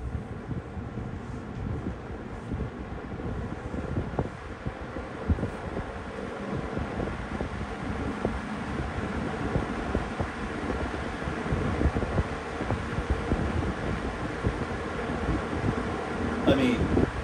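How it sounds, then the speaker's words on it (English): A green Edison Toastmaster electric fan running on high speed: a steady, loud rush of blowing air with low rumbling turbulence, constant throughout and close to the microphone. "I mean, it's just a powerful fan."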